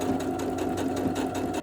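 A sewing machine stitches a fabric seam with a fast, even mechanical whir and rhythmic needle clatter, close and continuous for the short stretch without any talking.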